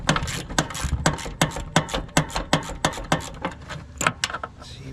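A ratchet tightens a headlight bucket bolt on a 2006 Jeep Wrangler, producing a rapid, even series of sharp metallic clicks close by, slowing briefly near the end, with no talk.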